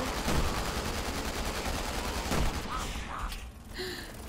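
Gunfire from gun-wielding zombies in Resident Evil 6, a steady rattle of shots with a couple of sharper bursts, heard amid busy game ambience at moderate level.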